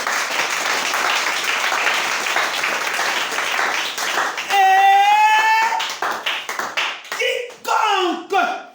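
A church congregation bursts into loud, dense applause for about four and a half seconds, then gives way to a sustained raised voice and scattered shouts and cheers nearby.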